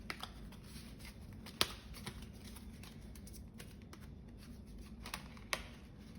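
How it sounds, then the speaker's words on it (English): Oracle cards shuffled by hand for a card pull, heard as a soft, quiet riffling patter with a few sharper clicks and snaps scattered over several seconds, close by. "Let me pull you a universe card and let's see what that says."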